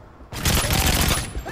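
Rapid automatic gunfire from Call of Duty MW3 erupts in a dense, loud burst lasting about a second, sharp cracks blurring into one continuous volley.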